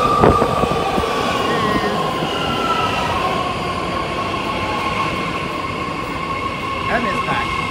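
A BART Fleet of the Future ten-car train at the Daly City platform, heard as a steady loud rumble of rolling stock with a sustained high tonal whine and brief wheel squeals near the end.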